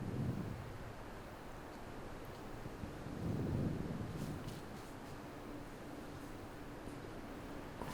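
Strong wind at an outdoor disc golf course during a tournament round at Lake Chabot in Berkeley rushes and buffets the microphone continuously, with a heavier low gust swelling in the middle.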